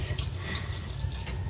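Glasses and dishes washed under a gently running tap, water trickling steadily with faint clinks, fairly close and continuous.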